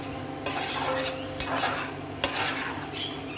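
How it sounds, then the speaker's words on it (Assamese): Chicken frying in a pan with a little added water, stirred with scrapes and clinks of a utensil against the metal over a steady sizzle, close up and alone. "তাৰপিছত এইখিনি লৰাই লৰাই মই ভাজি থাকিলোঁ"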